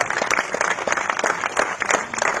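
Lively applause at a ceremony honouring a first-place gold medal athlete, many hands clapping in quick, uneven bursts, close and loud throughout the short stretch.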